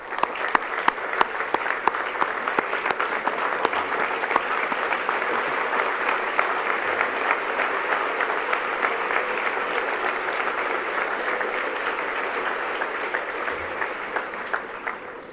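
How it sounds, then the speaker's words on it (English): Sustained applause from a school assembly audience at an academic awards ceremony, dense steady clapping from many hands lasting about fifteen seconds before easing off at the end. "Father John, Father Joe, and Father Mario with a huge round of applause."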